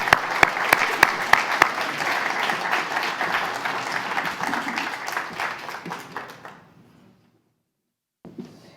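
An audience at a State of the City address gives a round of applause: sharp early claps settle into dense, sustained clapping that fades out, followed by a brief silence and a short final sound.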